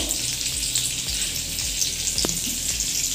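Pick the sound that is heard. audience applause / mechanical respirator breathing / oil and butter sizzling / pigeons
oil and butter sizzling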